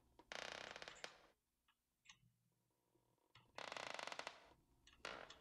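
A wooden drawer creaks in a video game: two loud, drawn-out creaking groans a few seconds apart, with faint ticks and clicks between them and no talk.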